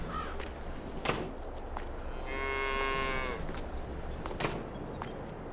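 A single cow in a barn lets out one drawn-out moo, fairly close, over a dull background with scattered knocks and rustling.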